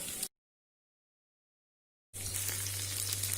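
Chicken 65 fries in hot oil at medium heat, giving a bright sizzle with a low hum beneath it, heard in two bursts separated by a long gap of silence.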